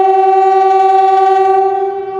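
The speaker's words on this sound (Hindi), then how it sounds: "रिलीज़ किए हैं, एक विसल दी है और लोकोमोटिव जो है मूव करेगा।" A locomotive whistle sounds at a railway station main line as the brakes are released: one loud, steady, close blast with rich harmonic tones that holds for about two seconds and then fades slightly.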